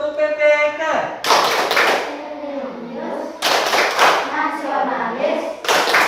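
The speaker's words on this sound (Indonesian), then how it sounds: "Baik, kita tepuk PPK." Classroom group performing the PPK clapping chant, bursts of loud unison hand claps alternating with sections of chanted voices, the claps returning in several rhythmic bursts.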